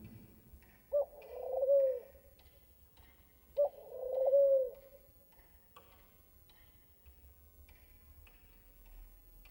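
A pigeon or dove coos twice, each call a soft rising note followed by a low rolling coo, well apart against a quiet background with a faint ticking sound.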